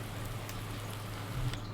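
Rain falling on a farm in Farming Simulator 19, a steady soft hiss of drops with a low constant hum beneath, even and unbroken throughout.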